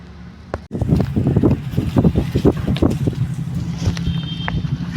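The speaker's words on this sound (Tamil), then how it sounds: "நல்ல காற்று." Strong wind blows outdoors through a garden around midday, buffeting the microphone in loud, gusty rumbles with a faint high tone near the end.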